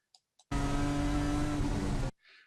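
A car at full throttle along a straightaway at Thunderhill race track, a loud, steady engine roar of about one and a half seconds that cuts off abruptly, with brief faint sounds before and after.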